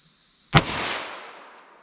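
A single sharp revolver shot from a 4.2-inch barrel handgun firing Buffalo Bore +P ammunition cracks out close by. The report is loud and sudden, followed by a ringing echo that decays over about a second.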